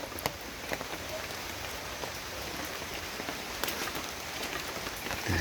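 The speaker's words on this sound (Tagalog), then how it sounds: "Guys, maulan-ulan pa." Steady patter of light rain falling on surfaces, a continuous hiss with scattered drops, no voices.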